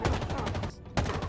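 Rapid gunfire in the Halo Infinite campaign fills the moment, a dense burst of shots that cuts out briefly and then resumes, loud and close.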